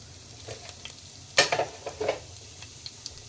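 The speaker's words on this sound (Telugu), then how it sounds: "అందులో జీలకర్ర, మినప్పప్పు కడిగి నేను వేసేసుకున్నానండి" Cumin seeds and washed urad dal crackle in hot oil in a pan, with a sharp burst of sizzle followed by a few softer pops and stirring scrapes, fairly quiet overall.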